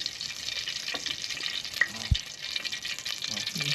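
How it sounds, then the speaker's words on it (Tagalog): Cooking oil heats in a pan for beef outdoors in a garden, crackling in a strong, continuous close sizzle with a few faint bits of voice and a brief knock. "Magpapainit na si Bossing ng mantika para dun sa baka."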